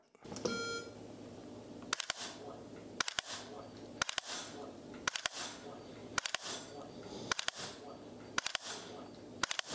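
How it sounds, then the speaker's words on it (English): A quick high beep, then a steady series of sharp double clicks about once a second as a magnetic dry fire trainer resets an unloaded AR-style rifle trigger, close and crisp over a low room hum. "hear that sound that it makes. That's the magnet coming down and cycling the trigger"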